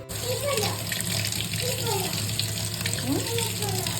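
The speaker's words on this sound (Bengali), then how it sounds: "দাঁড়ো আমি একটু ধুয়ে দিই" Tap water runs steadily into a sink as strawberries are rinsed under it, a continuous close splashing hiss, with a voice and a voice faintly mixed in.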